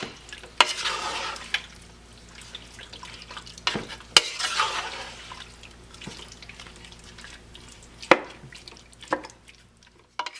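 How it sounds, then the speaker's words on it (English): Pork curry being stirred in a pot, with wet scraping and sloshing strokes recurring every few seconds over a quiet simmering background, close and alone. "We will mix all this together"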